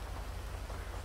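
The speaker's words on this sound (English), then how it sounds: "And the rain really isn't going to help." Rain in Grand Theft Auto V, a dense, steady hiss of falling rain with a low rumbling undertone, continuous and close with no voices.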